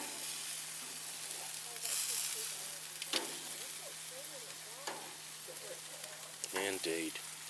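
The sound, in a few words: country style ribs cooking on low heat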